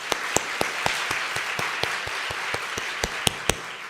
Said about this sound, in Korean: 현장으로 다시 나갈 우리 훈련생 모든 분 축하의 박수